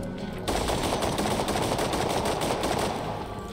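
Automatic gunfire from a weapon in Borderlands 2, a rapid, sustained burst of shots that starts abruptly after a brief quiet moment and keeps rattling loudly to the end.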